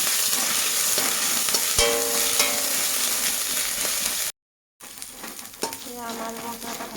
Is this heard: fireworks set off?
no